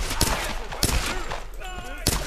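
Three or four sharp, separate gunshots from Tomb Raider 2013 crack at irregular intervals, loud and close, with a voice speaking briefly between them.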